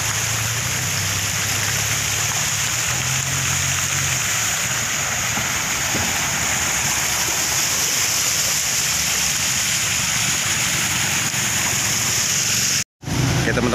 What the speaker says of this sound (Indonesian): banjirnya arusnya sangat deras